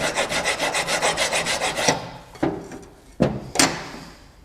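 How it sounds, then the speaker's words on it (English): Hand file scraping excess rust off the pad contact faces of a Jaguar XF rear brake caliper carrier, a rapid run of rhythmic rasping strokes followed by a few separate single strokes, close and clear. "I'm just going to use a file to clean up these faces. All we're doing is getting rid of the excess rust."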